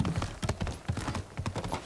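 Rapid video game horse hoof clip-clops beat out a steady trotting rhythm, close and fairly quiet, with no voices.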